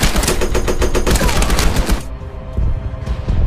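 Loud, dense automatic gunfire in a World War 2 tank video game, a rapid rattling burst that stops abruptly about two-thirds through, followed by scattered thumps and rumble.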